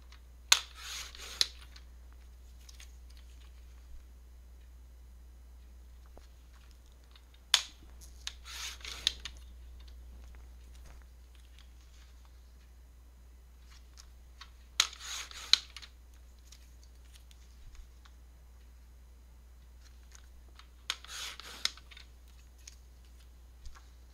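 A blade cuts striped paper scraps into half-inch strips for a bargello craft project, coming as four short separated bursts of slicing against a faint steady hum, with no talk.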